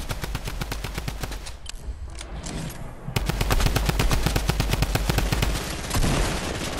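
Rapid automatic gunfire from a Fortnite match rattles in long bursts, a dense rhythmic stream of close, loud shots that briefly pauses and then resumes even more intensely.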